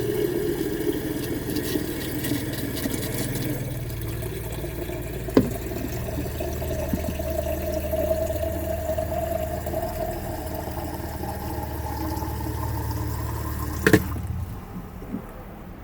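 Water runs steadily from a tap in an RV after the water pump is switched on, a continuous close rushing flow with a low pump-like hum beneath, a sharp knock near the end before it quiets.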